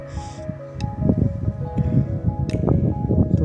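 Snails are washed by hand in water, with soft wet squishes, drips and shell rustling in a steady, close cluster of small splashy sounds.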